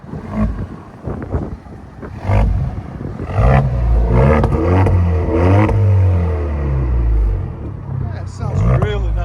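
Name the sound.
2020 Alfa Romeo Stelvio revving with straight pipes exhaust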